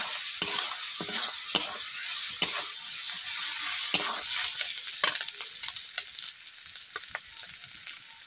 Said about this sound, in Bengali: রসুনগুলোকে কাঁচা ভাবে একটু ভেজে নিচ্ছি 1 মিনিট